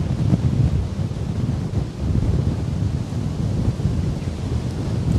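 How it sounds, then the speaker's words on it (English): Strong wind buffeting the microphone outdoors at a coastal glen near a beach, a continuous loud low rumble with gusty swells and no voices. "It's a little windy."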